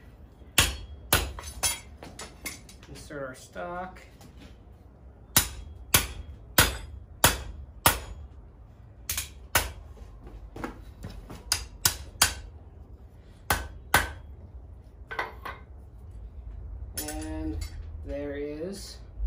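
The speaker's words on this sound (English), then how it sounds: "Take our hammer" Sharp metallic hammer strikes on forged steel bent around a mandrel ring out in irregular bursts, some quick doubles, with a brief spoken phrase between blows.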